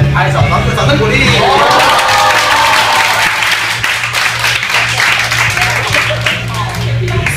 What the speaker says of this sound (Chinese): 拍手掌声鼓励